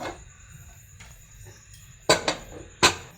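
A pressure cooker holding boiled potatoes is opened, a few sharp metallic clanks of the lid at the end after a quiet stretch of low background noise.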